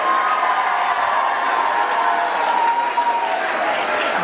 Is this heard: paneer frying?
no